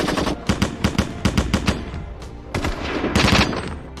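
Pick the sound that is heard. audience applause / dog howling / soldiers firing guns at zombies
soldiers firing guns at zombies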